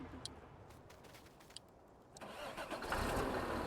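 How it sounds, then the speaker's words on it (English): A truck engine in Farming Simulator 19 cranks with a short whir, then catches and settles into a steady, fairly loud mid-pitched idle that carries to the end. "Ooh, nice engine sound, though. Did you hear that?"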